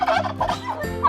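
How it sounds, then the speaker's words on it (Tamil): Turkey gobbling in a short, loud burst of rapid warbling calls, clear and close with no talk over it. "வான்கோழி"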